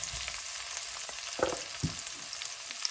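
Onions fry and caramelize in a hot pan with a continuous close sizzle, broken by a couple of sharp stirring scrapes partway through; no one speaks.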